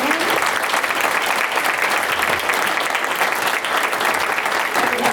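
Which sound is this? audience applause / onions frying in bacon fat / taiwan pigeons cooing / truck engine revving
audience applause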